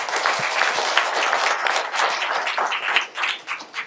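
A crowd applauds after a personal story at a seminar gathering, a steady wash of many hands clapping together at moderate volume for about four seconds, no voices on top.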